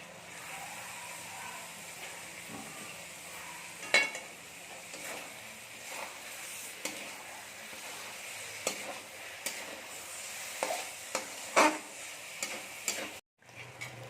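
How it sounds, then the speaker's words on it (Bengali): Pre-boiled cabbage goes into chicken cooking in a pan and gets stirred, giving quiet sizzling with scattered clinks and scrapes of a spoon against the pan, close but soft. "এখন আমরা এর মধ্যে দিয়ে দেবো বাঁধাকপিটা আমরা বাঁধাকপিটা একটু সেদ্ধ করে নিয়েছি"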